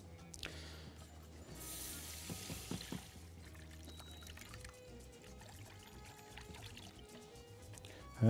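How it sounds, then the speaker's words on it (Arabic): Milk pours into a casserole of beans and Brussels sprouts, a soft liquid splash up close, with light clinks and kitchen handling around it. "يلا ننزل بقى ايه باللبن الأول."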